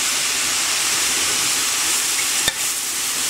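Eggplant and mushrooms frying in oil in a pan give a steady broadband sizzle throughout, with a single sharp tap or clink near the end.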